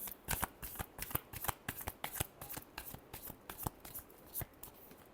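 Tarot cards riffle and slap through a close, steady shuffle, a quick run of crisp card snaps repeating about twice a second with no talking.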